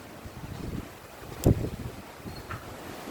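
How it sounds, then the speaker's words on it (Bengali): Strong stormy wind gusting at midday as a storm rolls in, a steady rough rush buffeting the microphone with one loud gust near the middle. "ঝোড়ো হাওয়া বইছে জোরে জোরে"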